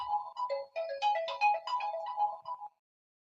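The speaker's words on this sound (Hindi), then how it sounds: "अब किसी फोन कियो" Mobile phone ringtone playing a bright, repeating electronic melody of quick notes, fairly faint and alone, then cutting off abruptly into silence.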